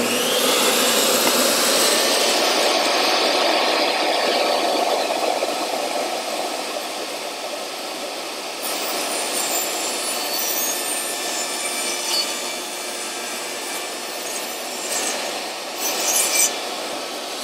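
A saw rips steadily through a wooden board, a continuous loud grinding rasp for the whole stretch that eases slightly partway through, with no talking.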